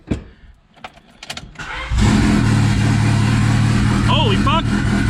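A turbocharged D16Y8 engine in a Honda Civic cranks and fires up for the first time, then settles into a steady, loud idle. Voices talk before the start, and an excited shout rises over the running engine.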